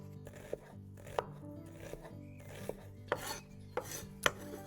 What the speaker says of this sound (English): Half a red onion. Okay, let's chop this finely.